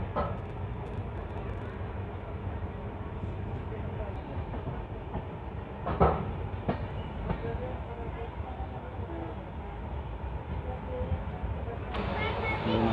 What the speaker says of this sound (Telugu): శ్రావణ బెలగుల నుంచి మన ట్రైన్ స్టార్ట్ అయింది